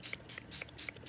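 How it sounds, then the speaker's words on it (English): A spritz spray bottle wets a card panel for cardmaking, giving several quiet, short hissing sprays in a steady rhythm, close by with no talk. "I'm going to take my spritz"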